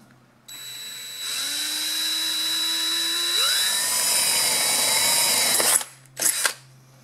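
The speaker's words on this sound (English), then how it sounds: "Then I can drill my hole." A power drill bores a hole through an aerosol spray can, a steady whine rising in pitch partway through, then stopping, followed by a couple of short clanks as the can is handled; no talking.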